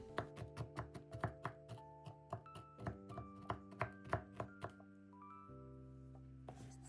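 Brisk, rhythmic knife chops through walnuts on a cutting board, a steady run of sharp taps over soft background music, then a pause.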